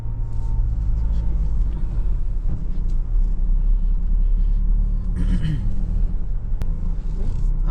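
Car driving along a very narrow coastal road toward Karde Beach near Dapoli in Konkan, a steady low engine and road rumble continuing throughout, with a voice talking over it.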